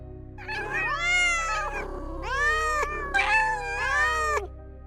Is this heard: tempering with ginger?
no